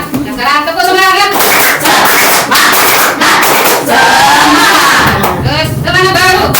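A school class claps a loud rhythmic spirit chant together, children shouting in unison with brisk patterned clapping, the group sound close and filling the room.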